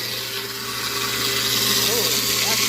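A Waste King 1/2 HP garbage disposal running under a kitchen sink with water, a steady loud motor hum and whir with a faint voice briefly over it.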